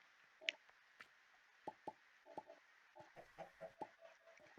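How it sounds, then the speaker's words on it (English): Chickens in a Minecraft modpack world let out a run of short clucks and squawks, about a dozen separate calls scattered irregularly over a few seconds, clear and fairly close against a quiet background. "A lot more chickens."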